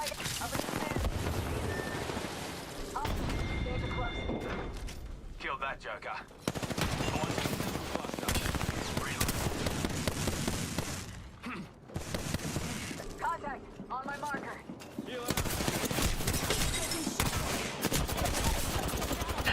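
Automatic weapon fire in the video game Apex Legends rattles in long, dense bursts with brief gaps, loud and close, while a player talks over the shooting.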